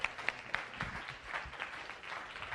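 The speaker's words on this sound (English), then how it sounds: "Let's give her a round of applause." Audience applause after a science café talk on pollution-fighting microbes, fairly quiet and a little distant, with a few sharper claps standing out at the start over a steady patter.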